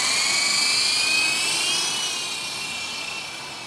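An MJX F46B RC helicopter flies nearby, its rotor and motor giving a loud, steady high whine that drifts slightly in pitch and fades a little toward the end.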